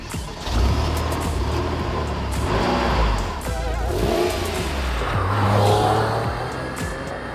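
A Porsche 993 Turbo S, the air-cooled 911, accelerates along a road in North Wales, its engine note loud and steady from inside the car, rising and easing through the gears.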